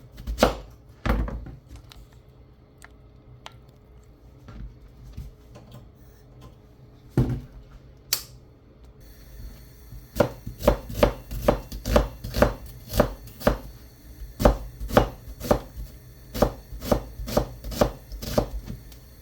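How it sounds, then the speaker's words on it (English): A knife dices onions on a cutting board, starting with a few scattered chops and then settling into a fast, steady run of sharp, close knocks. "we are going to start dicing our onions"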